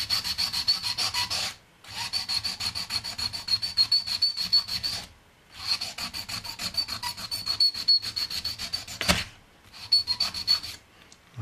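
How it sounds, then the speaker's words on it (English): A metal key blank is rubbed back and forth on 240 grit sandpaper over a wood block, giving steady close rasping strokes in three long bursts separated by short pauses, with no talk. "the difference between a key blank before it's prepared and now that I've sanded it"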